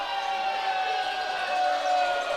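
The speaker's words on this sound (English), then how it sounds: "when I heard those boos" A basketball crowd at a PSAL Brooklyn quarterfinal high school game boos the referee, a sustained, droning roar of many voices filling the gym steadily from start to end.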